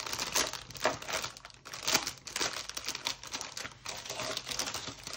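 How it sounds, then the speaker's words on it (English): Binder slid out of a paper envelope, with soft crinkling and rustling paper handled close by in irregular bursts and no talking. "I'll take it out of the envelope here."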